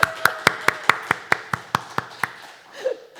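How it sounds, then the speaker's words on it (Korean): About a dozen sharp, evenly spaced claps from a church congregation at a Sunday service, close and crisp in an otherwise quiet room, ending with a brief faint murmur. "박수 한번 해야 되지 않아?"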